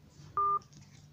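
A single short telephone dial tone beeps once while a caller tries the 666 number, a clean, brief electronic tone over a quiet background hum.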